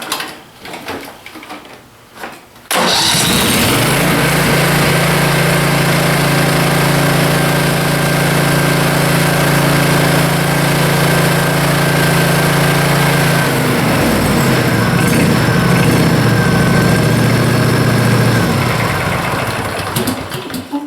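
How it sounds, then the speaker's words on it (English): A small Briggs and Stratton gasoline engine starts up and runs steadily at a fast idle, loud and close, with a slight change in pitch near the end. "So let's turn the engine on and see if we get voltage."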